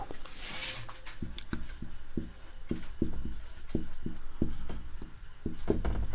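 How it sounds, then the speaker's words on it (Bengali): Handwritten notes for a set theory lesson: a pen scratches across paper in quick, rhythmic strokes and taps, close and clear, with no one speaking. "এখানে আমি এখানে কিছু নোটস আকারে লিখছি"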